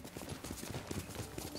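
A horse's hooves clip-clop at a steady walking rhythm in the video game Ghost of Tsushima, soft and fairly close, with nothing else prominent.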